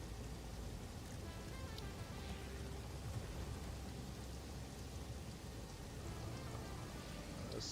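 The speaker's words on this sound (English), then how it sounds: "Look, it's raining in the desert again." Rain falls in a desert area of the factory-building video game Satisfactory, a faint, steady patter and hiss with a low rumble underneath that continues without break and with no speech.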